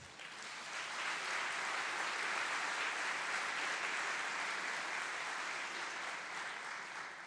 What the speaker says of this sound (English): Of course, I'm a big fan of Brian Lara, so please round of applause for the athletes.